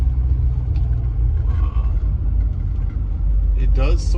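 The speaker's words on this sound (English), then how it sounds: "I'm on the 240D first drive, and we're going that many miles per hour." A Mercedes 240D diesel car on its first drive after an injector rebuild, with a steady low engine and road rumble throughout and a person talking over it.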